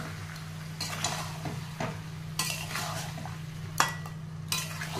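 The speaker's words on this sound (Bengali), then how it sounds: "এই যে ফ্যাটানো টক দইটা, এবার এটাকে আমি এখানে দিয়ে দেবো" Whisked sour yogurt goes into chicken cooking on a low flame in a pan, giving soft stirring scrapes and a quiet sizzle with a few sharper clinks of a utensil against the pan, close by and with no talk.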